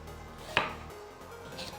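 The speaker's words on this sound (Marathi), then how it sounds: "तर अशा लहान लहान फोडी आपण कैरीच्या कापून घेणार आहोत ह्या सुड्यानं फोडून घेणार आहोत" A single sharp knife chop cuts through raw green mango on a board, one crisp close thud followed by quiet kitchen ambience.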